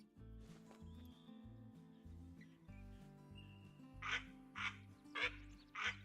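A green-winged teal duck quacking in a hunting video game, four loud, evenly spaced calls near the end, following quieter game ambience with a steady low rhythmic tone and faint distant sounds.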